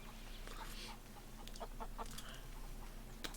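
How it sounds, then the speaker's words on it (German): Chickens in a video game cluck in short, scattered bursts over a steady background hum, moderately near and fairly quiet. "Direkt hier mit Hühnern einsteigen"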